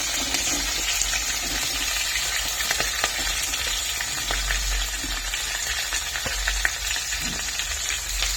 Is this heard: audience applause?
no